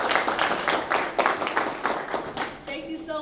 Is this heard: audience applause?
yes